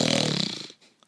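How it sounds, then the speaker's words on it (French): A deep, rumbling snore from an ogre in a told fairy tale, one loud rattling inhale about three-quarters of a second long that cuts off abruptly, heard close and alone. "Bientôt, ses ronflements faisaient trembler les murs."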